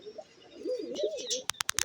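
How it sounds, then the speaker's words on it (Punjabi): A single pigeon gives a soft, warbling coo, followed by a few sharp clicks or clatters at the end. "ਇਹ ਮਸ਼ਹੂਰ ਕਬੂਤਰ ਆ ਬਾਈ ਇਹ"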